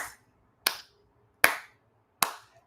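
Four sharp, separate hand claps from a single person on a reality dating show, evenly spaced about three-quarters of a second apart, crisp and close with quiet gaps between them.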